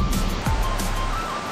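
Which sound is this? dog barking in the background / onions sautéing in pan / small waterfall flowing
small waterfall flowing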